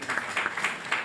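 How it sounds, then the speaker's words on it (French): A small crowd claps to greet a staff member introduced at a football club's jersey presentation, a brief, thin patter of individual claps in uneven bursts. "Abdou Salam Dey, sous vos applaudissements"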